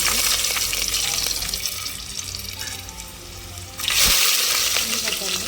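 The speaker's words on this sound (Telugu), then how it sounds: "ప్యాన్ పెట్టి ఆయిల్ వేసాను. వెల్లిపాయ వేస్తున్నాను." Garlic sizzles in hot oil in a pan for a Telugu okra curry, a steady close hiss that thins midway and then swells louder near the end as more goes in.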